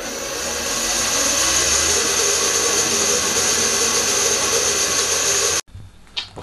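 A drill press with a centre drill gives a steady, loud whirring drone with a high whine for several seconds, then cuts off abruptly, leaving quiet room noise and a couple of soft knocks.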